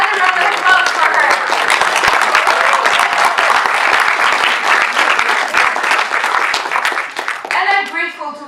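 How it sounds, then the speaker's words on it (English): Sustained applause from a speech-contest audience, dense and loud for about seven seconds before thinning out as a voice begins speaking near the end. "Let's give another round of applause for her."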